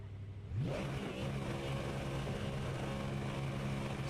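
A racing car engine in a video game revs sharply upward and then holds at full throttle, a loud, steady high-pitched drone.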